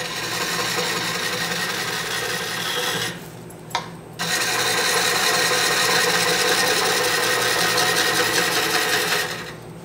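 A skew chisel takes a peeling cut on wood spinning on a lathe, giving a loud continuous rasping hiss that briefly drops away in the middle before resuming just as strongly.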